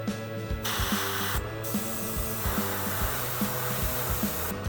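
Airbrush or spray painting a miniature, blocking in black, giving a steady hissing spray with short, repeated mechanical clicks and bursts in a rhythmic pattern throughout.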